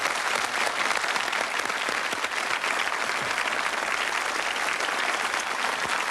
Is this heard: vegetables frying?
no